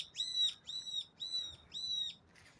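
Bird in Hwadam Park giving four evenly spaced, drawn-out high calls, each roughly half a second long with short gaps between, fairly clear above a faint low outdoor rumble.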